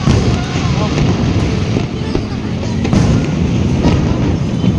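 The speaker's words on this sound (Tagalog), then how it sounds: "may fireworks pa" Distant fireworks boom and crackle continuously over the Pasig River Esplanade beneath a loud wash of crowd noise and wind, with people talking excitedly throughout.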